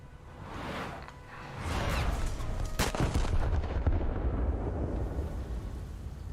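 Naval guns firing shells in a warship video game, a sharp boom followed by a heavy rumbling roar and whooshing that lingers, moderately loud with no talk.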